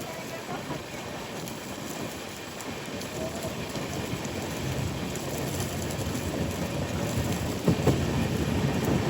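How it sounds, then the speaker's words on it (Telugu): Rain falls outside the Kamrup Express as it runs near Rangiya in Assam, a soft steady wash blended with the low rumble of the moving train, faint and continuous throughout. "రాంగియా వైపు ఫుల్ వర్షం చిత్తకూడేస్తుంది"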